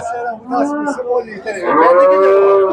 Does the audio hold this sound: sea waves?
no